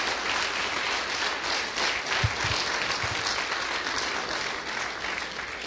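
A church congregation applauding, sustained loud crowd clapping filling the room evenly from start to finish with no talk over it.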